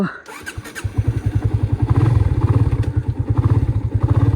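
A motorcycle engine thumps in a steady rapid rhythm close by, with some rattling clatter as the bike rolls along a rough off-road track.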